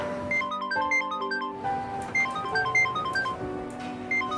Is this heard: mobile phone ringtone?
yes